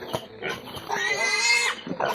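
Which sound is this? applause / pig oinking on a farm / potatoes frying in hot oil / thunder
pig oinking on a farm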